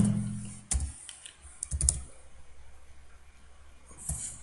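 Keys clack on a computer keyboard while C++ code is typed, a few sharp isolated strikes near the start, then a quick cluster around the two-second mark and one more tap near the end, close and fairly quiet with no talking.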